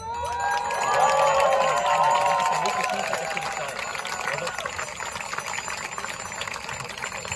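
Crowd at an outdoor rally cheering and applauding, a broad swell of voices and clapping that peaks early and then settles into steady, fairly close crowd noise with shouting mixed in.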